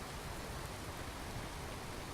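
Steady pouring rain in the Skyrim video game world, a dense, even hiss of falling water that fills the whole stretch without a break, with no voices over it.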